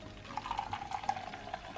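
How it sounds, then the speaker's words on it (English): Water pours into a blender jar holding blended mint leaves, coriander and ginger, a brief soft splashing fill heard close and quiet. "Let's add some water"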